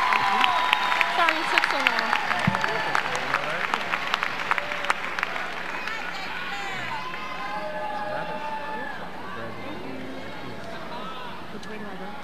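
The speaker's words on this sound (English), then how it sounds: "Please join me in a round of applause." An audience at an association award presentation breaks into a sustained round of clapping that fades gradually over several seconds, while a voice speaks over it.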